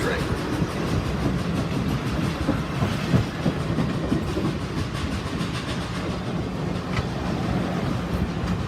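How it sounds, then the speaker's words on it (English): A passenger excursion train rumbles past on the rails, a loud continuous roar with steady clickety-clack of wheels over track joints, close by. "It's just a lousy old passenger excursion train."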